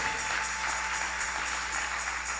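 Church congregation applauding together, a steady dense wash of clapping with rhythmic pulses, moderately loud and continuous without talk.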